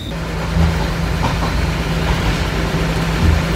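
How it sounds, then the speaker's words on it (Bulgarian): Small tourist train rolling toward the seaside in Sicily, a steady mechanical rumble with a low engine hum and rattling throughout, moderately loud and continuous with no voices. "обратно на влакчето, което ще ни откара на брега на морето"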